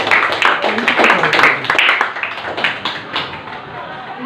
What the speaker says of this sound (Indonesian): kita berikan tepuk tangan untuk kelompok Markus